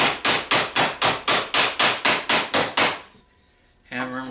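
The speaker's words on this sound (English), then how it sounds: "Hammer them down." A hammer pounds parts down during a carport shop build: eleven loud, close, evenly spaced strikes in quick rhythm, then a short silence and a ringing metallic clang.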